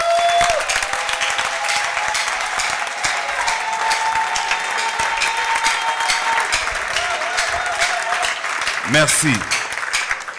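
A church congregation applauding the women during a sermon: sustained, steady applause throughout, with a brief spoken word and a faint tone underneath.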